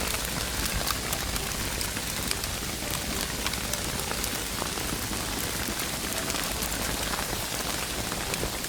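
Rain mixed with small hailstones pours down in a dense, steady hiss and patter across every surface, unbroken for the whole stretch with no voices.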